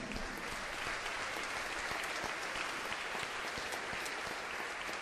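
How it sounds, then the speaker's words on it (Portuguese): A church congregation at a national sacred music seminar of the Assembleia de Deus gives a reverend a long, steady round of applause, dense and continuous clapping that fills the hall throughout. "Vamos receber mais uma vez o reverendo Cid com uma grande, linda salva de palmas."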